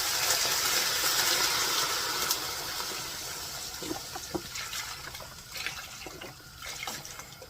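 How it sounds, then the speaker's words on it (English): Beef broth pours into a cooking pot in a steady liquid gush that gradually thins and tapers into gentle splashes and trickles, heard close up with no talking. "we want to add 4 cups of beef broth"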